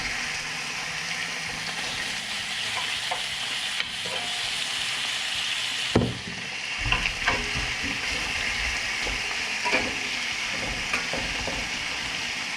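Shrimp coated in Cajun seasoning sear in a hot pan with a steady, moderate sizzle, punctuated by a few sharp clinks and scrapes as they are flipped.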